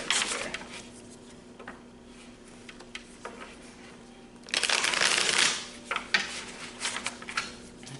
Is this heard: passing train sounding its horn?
no